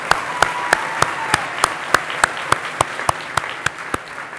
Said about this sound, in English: we can clap for moms.